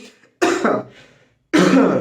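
A man coughs and clears his throat twice, close and loud, each burst rough and separated by a short quiet gap.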